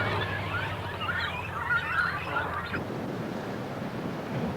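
Cormorants at a seaside nesting colony, a dense chorus of harsh calls layered over steady surf and wind, busiest in the first few seconds before thinning to a wash of waves.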